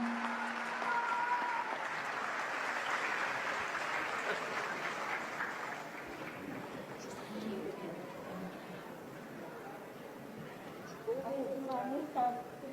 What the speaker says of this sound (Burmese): လက်ခုပ်ဩဘာသများနဲ့ဂုဏ်ပြုပေးပါအောင်ခင်ဗျာ